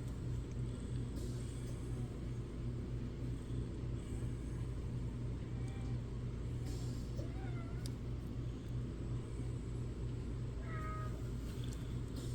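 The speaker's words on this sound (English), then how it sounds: "My kitty's over here meowing at me." A pet cat meowing indoors, a few faint brief meows scattered through a long stretch of steady low rumbling background noise.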